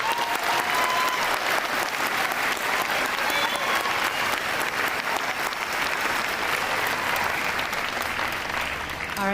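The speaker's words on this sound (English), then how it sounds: "Let's do one more round of applause" Sustained applause from an audience at a middle school eighth grade recognition ceremony, dense steady clapping that fills the hall for the whole stretch without letting up.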